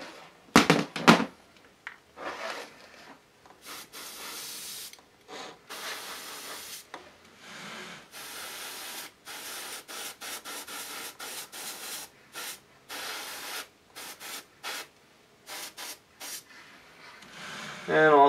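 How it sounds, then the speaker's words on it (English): An aerosol spray can puts yellow paint on blonde hair in short, repeated hissing bursts with pauses between them, close and moderately loud. "I'm spraying a little heavy, but that's fine."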